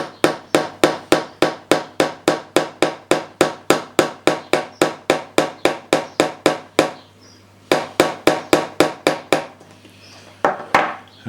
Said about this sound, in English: I'm going to give me a little hammer. And I'm going to tap that in.